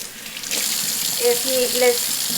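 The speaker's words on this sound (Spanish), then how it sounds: "Aquí vamos a enjuagar la carne, una enjuagadita." Pork pieces for red pozole being rinsed under a running kitchen tap, a steady broadband rush of water splashing into a sink with faint handling sounds, fairly close and continuous without talk.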